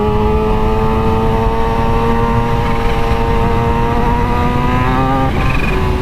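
A supercharged 2022 Kawasaki Ninja H2 motorcycle revs and runs, a loud, close, steady high-pitched engine and supercharger whine that holds evenly and then climbs sharply in pitch near the end.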